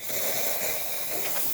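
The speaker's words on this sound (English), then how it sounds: "nice strong steam." The steam wand of a freshly serviced Gaggia espresso machine lets out a strong, steady hiss, close and continuous, with a slight swell near the end.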